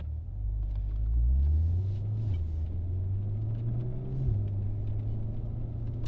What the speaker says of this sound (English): But now we are going to take it for a drive.